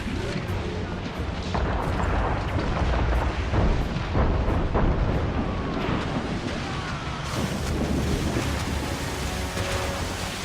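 Ship cannons boom repeatedly during a naval battle in the video game Assassin's Creed Rogue, thick and continuous over rushing wind and sea noise, with voices mixed into the din.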